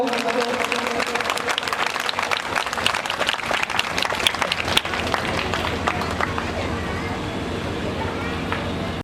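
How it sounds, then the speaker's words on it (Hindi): A large village crowd at a Shrimad Bhagwat Katha gathering in Bhorgarh claps loudly and continuously, a dense, steady roar of applause that fades slightly toward the end. "एक बार जोरदार तालियां बजा दीजिएगा जोरदार तालियों से अभिनंदन"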